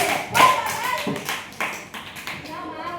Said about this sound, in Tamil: எல்லாருமே கை தட்டுங்க